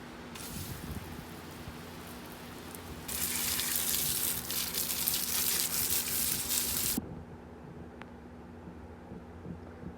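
Water rinsing onions and celery outdoors on a hardware-cloth screen used for sifting dirt, a steady broadband splashing swell in the middle few seconds, set against quiet outdoor ambience with no talk.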